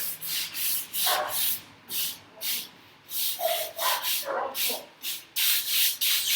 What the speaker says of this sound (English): I'm using this little heavier sanding paper